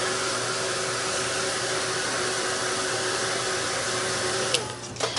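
A hair dryer blows steadily and loudly at close range to dry paint on a face painting, a constant whooshing drone that cuts off near the end, leaving a few small clicks.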